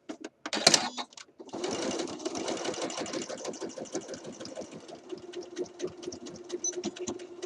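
A home sewing machine stitches the seam allowance of a Simplicity 8014 shirt dress, running in a steady close-up mechanical chatter with rhythmic needle ticks. One brief sharp clack comes before the run starts.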